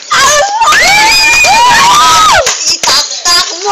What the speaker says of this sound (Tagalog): Sa kanan, mag-ingay para kay XD Nuno